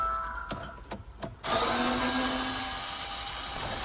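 A power tool whirs steadily after a few short clicks and taps, working loose the screws holding a van's touchscreen head unit, close and fairly loud, with no talking.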